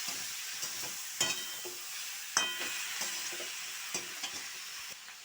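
Spring onion stalks fry and get stirred in a pan for a Bengali curry, a steady soft sizzle broken by repeated scraping clicks of the spatula, close and moderately quiet with no talking.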